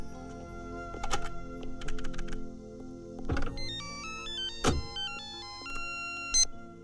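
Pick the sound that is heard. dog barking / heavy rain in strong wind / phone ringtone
phone ringtone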